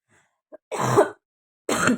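A throat clearing followed by two harsh coughs, close and fairly loud, with brief silences between them.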